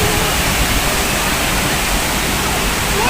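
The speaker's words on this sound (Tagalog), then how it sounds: "Yan, waterfalls, Tinago waterfalls." Tinago Falls waterfall roaring close and loud, a steady dense rush of falling water that continues without a break.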